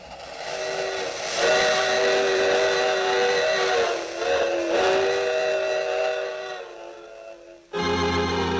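A long, loud steam train whistle sounds with a breathy hiss, wavering in pitch before cutting off, then a burst of noise follows.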